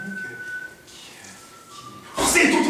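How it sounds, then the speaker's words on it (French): A woman whistles the theme tune from Les Tontons Flingueurs, a thin steady melody that holds one pitch and then drops lower, faint under room noise, before a sudden louder burst of sound at the end. "elle sifflote plutôt joliment"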